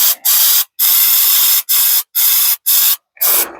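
An aerosol can of chain lube hisses in six loud, close bursts of differing length with short gaps between them, sprayed over emergency brake parts.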